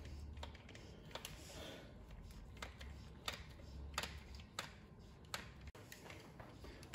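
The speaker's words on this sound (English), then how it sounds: "now let's start pumping grease in until we see it come out" Grease gun pumping grease into trailer wheel bearings, a steady run of light clicking strokes at close range with a low background hum, no talking.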